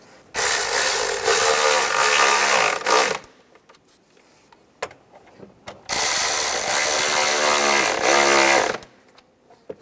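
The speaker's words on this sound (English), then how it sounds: "then you can tighten them down." A ratchet tightens bolts on the engine of a 2003-2010 BMW X3 during a spark plug job, in two loud, rapid, close bursts of clicking separated by a short quiet gap with faint handling noises.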